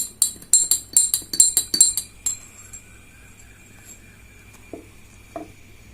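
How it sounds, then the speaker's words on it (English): A spoon clinks repeatedly against a glass of water and vinegar in quick, ringing taps, then stops, leaving a faint lingering ring and a couple of soft knocks. "And stir gently."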